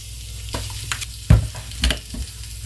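Food cooking on a grill sizzles steadily at close range, broken by a few sharper pops and the clatter of a spatula being handled, with no one talking.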